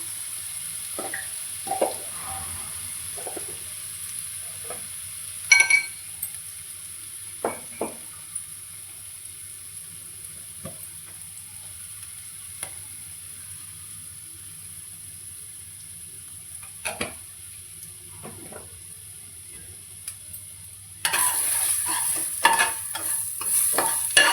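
Whole spice powder of cardamom, cloves, cinnamon and coriander stirred into a little hot frying oil for joint biryani, giving a soft steady sizzle with scattered scraping stirs that turn louder and busier toward the end.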